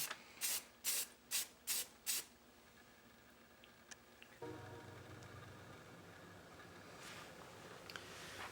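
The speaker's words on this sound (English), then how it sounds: "just adding a little layer of primer, and we're just going to spray from a little far away" Five short rhythmic hissing bursts of a spray can applying primer to an 86 car from a distance near the start, then quiet, followed by a faint steady background hum.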